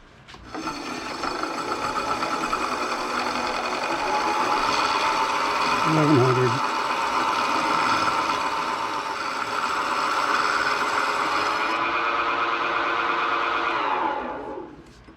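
Metal lathe reshaping and repairing chuck jaws, a steady high-pitched whirring and grinding whine of cutting that holds for over ten seconds with a brief lower squeal partway through, then stops abruptly.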